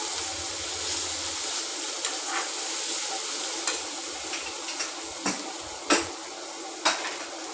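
Onions sautéing in a pan for chicken curry give a steady close sizzle, with a handful of sharp spoon scrapes and clinks against the pan growing more frequent toward the end; no one speaks.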